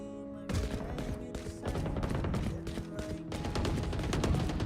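Gunfire from a player shooting in the Valorant tactical shooter, dense bursts of shots over a steady game soundtrack with tonal hum, fairly loud and continuous after a short quiet start.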